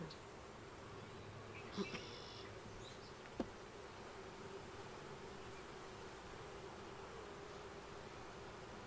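Honeybees hum faintly around an open hive during a first inspection, with a steady soft drone and a couple of brief knocks.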